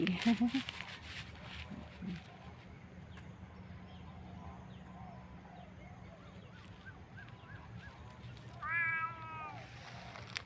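A two-toned pet cat outdoors near grass, giving several short meows scattered across the stretch, with a more drawn-out cry near the end, moderately close amid light background noise and someone talking.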